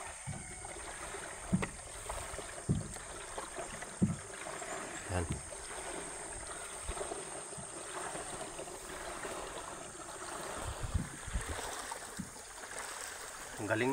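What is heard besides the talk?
paddling a small wooden boat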